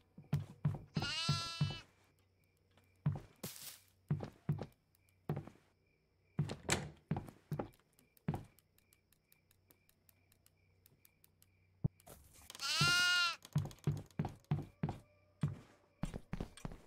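Goats bleat in the horror video game Devour: two loud, wavering bleats near the start and again later, set among repeated heavy thunks and footstep-like knocks over a quiet background hum.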